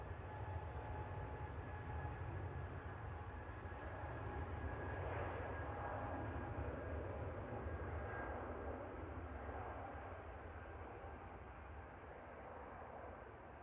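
A Eurowings airliner at Manchester Airport, its engines a steady low roar heard from a moderate distance, droning evenly with faint tonal whines for several seconds before slowly easing.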